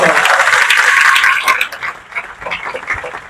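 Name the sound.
loud applause for selected students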